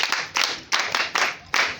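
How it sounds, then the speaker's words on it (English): Students on a school excursion clap in unison, four or five short rhythmic bursts of group clapping, close and fairly loud. "Let's give it a clap."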